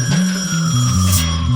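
An old-style telephone bell rings in a steady rapid trill, loud and close, with no voices.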